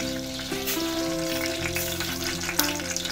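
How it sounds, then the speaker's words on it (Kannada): Mustard seeds sizzle and crackle steadily in hot coconut oil in a pan for a Chinese potato stir fry, a close, continuous frying hiss with small pops. "ತೆಂಗಿನ ಎಣ್ಣೆ ಹಾಕಿದ್ದೇನೆ. ಈಗ ಸಾಸಿವೆ ಹಾಕ್ತೇನೆ ಕೂಕ ಪಲ್ಯಕ್ಕೆ."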